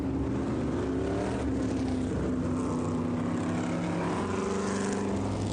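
Modified stock cars idle together before a 20-lap feature race at Lee USA Speedway in New Hampshire, a steady, close, rumbling engine drone with layered low hum that holds throughout with no voices.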